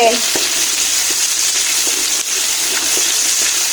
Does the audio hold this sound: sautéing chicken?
yes